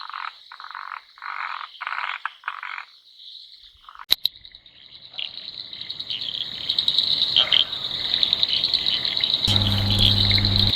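A dense chorus of frogs croaks and trills continuously, with insects buzzing along, the calls layering and growing busier toward the end.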